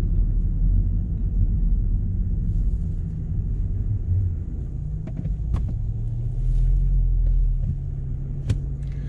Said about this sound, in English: We're just gonna go give it a fairly aggressive start